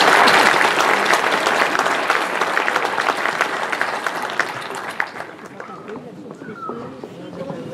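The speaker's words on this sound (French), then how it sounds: "On peut les applaudir, hein." A crowd applauds loudly with dense clapping that thins and fades toward the end, leaving scattered claps and a few voices, at a town New Year's ceremony in Comines.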